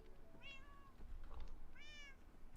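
Two drawn-out, rising-then-falling meows from a Minecraft cat, each about half a second, clear and alone over a low background hum.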